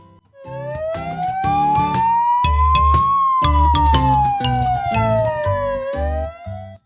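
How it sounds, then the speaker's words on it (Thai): A police car siren wails in one long, smooth sweep that rises and then falls, set against a tinkling, jingly musical backing with steady percussive hits. It is loud and close throughout. "สิ่งสำคัญในสถานีตำรวจ รถตำรวจ police car"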